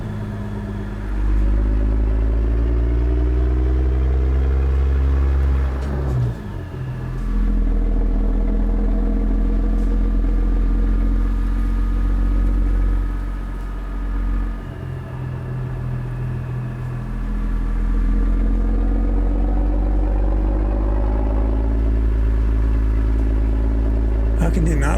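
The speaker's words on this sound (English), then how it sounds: "How can you not like this engine?" A heavy truck engine in American Truck Simulator with the ProMods Canada map drones steadily and loudly for the whole stretch, a deep rumbling tone with a couple of brief shifts in pitch and load, and no talking over it.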